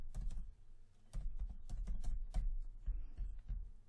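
Fingers tap on a computer keyboard in quiet, close bursts of keystrokes with brief pauses between words, and no voices are heard.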